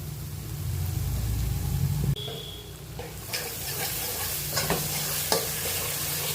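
Steady frying hiss with scraping stir strokes in a pan as yogurt is added to frying spice paste, a low rumble fading early, occasional sharper clicks of a spoon against metal.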